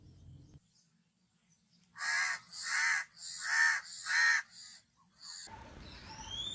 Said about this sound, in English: This is a crow.